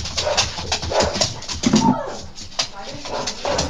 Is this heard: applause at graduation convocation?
no